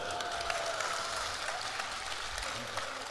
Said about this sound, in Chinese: 此处应该有掌声